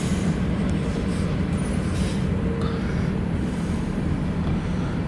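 A loaded CSX freight train hauling rock rolls past eastbound in a steady, continuous rumble with rattling wagons, heard at moderate distance and fairly loud throughout.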